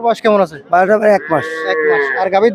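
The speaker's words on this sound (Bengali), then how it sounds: "এদিকে দেখতে পাচ্ছি একটা লাল গাবি এবং ষাড় বাছুর" A red cow and a bull calf at a farm cattle sale call out in loud, close, drawn-out moos and bleating cries, several calls in quick succession.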